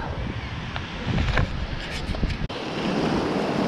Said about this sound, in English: Forecast is terrible. Cold and windy.